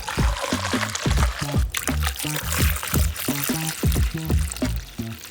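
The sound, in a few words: pouring distilled water into engine cooling system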